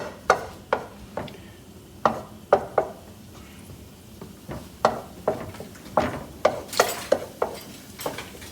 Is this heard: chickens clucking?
no